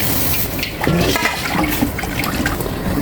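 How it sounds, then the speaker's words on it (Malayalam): Water poured into a cooking pot seasoned with cardamom and pepper powder before rice goes in, a steady, close rushing splash lasting a few seconds with no talk. "ആവശ്യത്തിന് വെള്ളം ഒഴിച്ച് കൊടുക്കാം."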